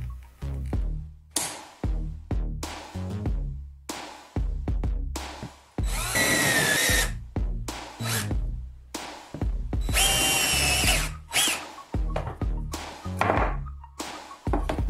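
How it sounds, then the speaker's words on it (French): A power drill with a bit boring into wood, running in repeated short bursts with pauses between, plus a couple of longer high-speed whines, loud and close with no talking. "Mettez un serre-câble sur la mèche de perceuse à la distance souhaitée de la pointe."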